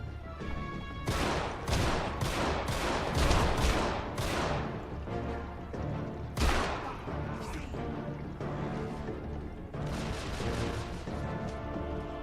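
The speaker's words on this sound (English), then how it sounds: "she's still shooting, so we're not quite done yet" Loud, dense gunfire from the Deadfall video game in an ice temple level, with repeated bursts and heavy impacts running throughout, over game music.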